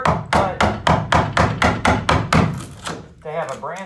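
Hammer driving a chisel to strip old wood from the floor of a 1975 Eco fiberglass camper: about ten sharp, evenly spaced blows in quick rhythm, close and loud, with a voice speaking briefly at the end.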